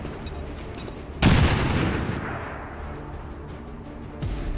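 Grenade explosion in XCOM 2, one sudden loud boom that rolls into a decaying rumble lasting about a second, with a fainter thump near the end.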